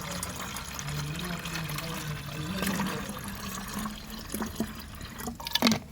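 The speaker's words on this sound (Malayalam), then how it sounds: "നമ്മൾ വെള്ളം ഒഴിച്ചുകൊണ്ട് കൊടുത്തിട്ടുണ്ട്" About a litre of water runs steadily into a container of aloe vera mixture with a continuous gushing pour, followed by a few splashes and clinks near the end.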